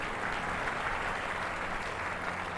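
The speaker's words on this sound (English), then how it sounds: "An applause for Futura Light." Steady applause on a livestream for Futura Light after a raid arrival, a dense even wash of clapping that holds at a constant level for a couple of seconds with no voices.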